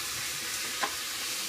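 Rice being stirred with sofrito in a pot for arroz con pollo, a steady close sizzle with a single soft scrape of the spoon near the middle.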